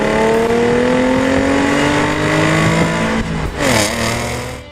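Engine of a 2015 Audi S5 accelerating hard, a loud steady rising drone that climbs in pitch, then dips briefly for a gear change before pulling again.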